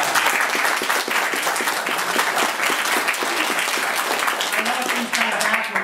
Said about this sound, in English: We're applauding the men for fixing Mother's breakfast on Mother's Day